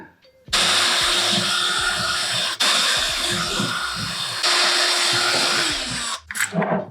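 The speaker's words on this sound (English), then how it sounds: "I just use the smaller bit and I go straight into the holes, making sure not to damage the actual sole plate." Power drill with a small bit boring into the holes of a sole plate, a loud steady whirring whine in three bursts separated by brief stops, close up, with faint voice in between.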